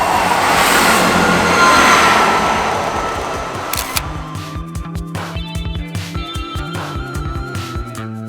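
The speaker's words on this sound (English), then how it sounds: "There's a couple of trains coming, so it just might make a shot there." Trains pass close by on the line at Dewsbury, a loud rushing roar fading into a rhythmic series of wheel clicks over rail joints as carriages go by.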